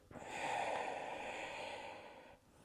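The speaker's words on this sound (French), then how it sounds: "Inspire et expire." A single long, airy breath during a yoga session for the upper back and shoulders, close and soft, rising and then holding steady for about two seconds before stopping abruptly, with no talking.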